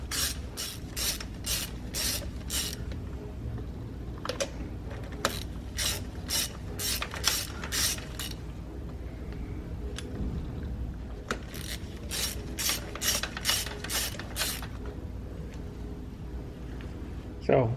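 A hand ratchet clicks in quick repeated bursts while spark plugs are removed from a Hyundai Sonata Hybrid engine, close and crisp, with pauses between runs and a voice talking faintly.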